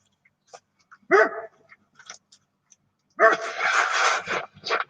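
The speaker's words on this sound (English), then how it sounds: "Shut up, dogs." Dogs bark in two bursts, a short sharp one near the start and a longer, louder flurry of barks and yips toward the end, close by and clear.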